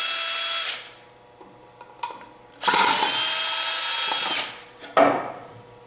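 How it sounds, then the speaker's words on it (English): A power drill whirs in two long bursts while backing screws out of a wood-turning setup holding a log blank for a winged bowl, with quieter handling noises between runs and a short third burst at the end. "I unscrewed the screws."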